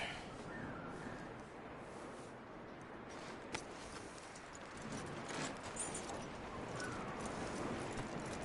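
Horse hooves clip-clopping at a steady walking pace in Assassin's Creed Odyssey, soft and continuous over a dense ambient background, with no voices.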